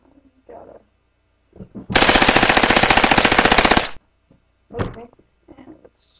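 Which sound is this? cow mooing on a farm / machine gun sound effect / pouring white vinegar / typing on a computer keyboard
machine gun sound effect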